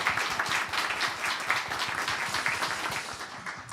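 Steady applause from a church congregation at a deacon ordination service fills the room, dense overlapping claps continuing evenly throughout.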